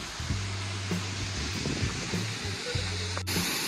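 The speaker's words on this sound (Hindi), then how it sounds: "यहाँ पे छोटा सा झरना है" Small roadside waterfall in the hills of Jammu gives a steady broadband rush of falling water, with low droning hum tones and faint background voices layered over it.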